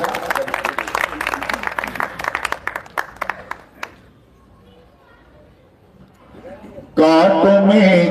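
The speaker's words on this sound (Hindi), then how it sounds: "एक बार तालियां बजा दीजिए थोड़ा सा।" An audience claps at a Hindi kavi sammelan poetry gathering in Faridabad, a burst of applause lasting about four seconds before fading into a quiet pause, after which a voice starts speaking.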